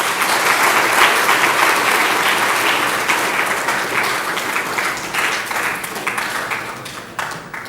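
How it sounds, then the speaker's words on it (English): An audience at the World Space Week 2023 inaugural function applauds as dignitaries take the dais, a dense, steady wash of clapping that slowly thins toward the end. "Yes, you're free to applaud, it's okay."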